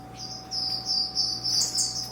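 Peel's parrot finches in an indoor aviary give a steady stream of high, thin chirps and tweets, rising and falling in short bursts over a low hum, with no one speaking.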